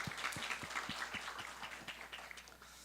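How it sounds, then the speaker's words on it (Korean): Church congregation applauding at a high-school youth worship service: a steady, dense wash of clapping from many hands, fairly even in loudness throughout with no voices over it. "우리 예수 그리스도 이름 앞에 최고 영광의 박수를 다시 한번 힘있게 올려드립시다"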